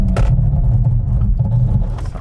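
An MG S5 EV brakes hard from 100 km/h, giving a loud, steady low road and tyre rumble that swells with a brief brighter burst near the start, with no talk over it.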